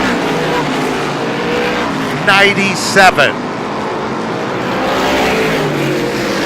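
Race cars at Star Speedway in an SBM 125 lap race, a continuous roar of engines over the whole stretch while an announcer talks in the middle.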